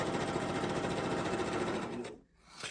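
A sewing machine runs at a fast, steady whir while stitching fabric for a reusable coffee filter, doing a reverse stitch. It stops abruptly near the end, then starts again briefly, close and alone.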